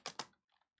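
A few quick keystrokes on a computer keyboard as a terminal command is typed: two sharp clacks close together, then softer, faint taps trailing off.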